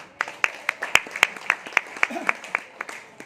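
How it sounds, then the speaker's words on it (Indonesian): At a marketing presentation, a small group claps for a woman named Ana in a steady, evenly spaced rhythm of sharp claps, moderately loud and close. "itu Bu Ana dapat tepuk tangan buat Bu Ana ya"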